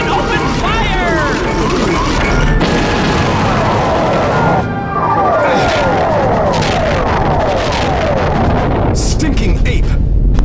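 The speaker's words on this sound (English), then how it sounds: "Stealth Squadron, open fire!" Weapons fire and explosions from the Star Fox Assault video game form a loud, dense stream of rapid laser shots, chirping zaps and booms that continue throughout, with in-game voices in the mix.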